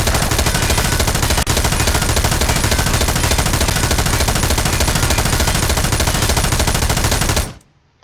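An M249 machine gun fires a sustained, unbroken stream of loud, rapid shots for about seven seconds, then the fire stops abruptly.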